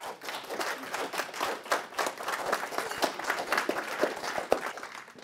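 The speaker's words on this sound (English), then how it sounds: "a round of applause" A small forum audience gives a round of applause for an artist, scattered but steady clapping from a modest group, close and moderately loud, with individual claps distinct.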